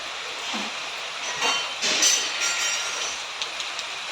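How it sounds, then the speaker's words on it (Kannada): Heavy rain pours steadily on a morning during the Ganesh Chaturthi festival, a dense, even hiss with a few brief swells and no voices. "ಎಷ್ಟು ಜೋರು ಮಳೆ ಬರ್ತಾ ಉಂಟಂತ ನೋಡಿ"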